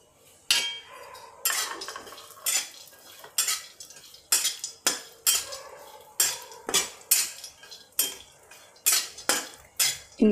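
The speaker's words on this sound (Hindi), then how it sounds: "पहले हम बादाम को भून लेंगे" Almonds roasting in desi ghee in a pan, a quiet sizzle broken by a dozen or so sharp, regular scrapes and clinks of a spoon stirring against the metal, close and without talk.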